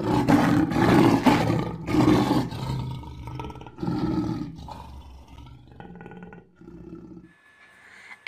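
A lion roars in a series of loud, deep, rumbling calls that grow shorter and fainter, heard alone with no talk.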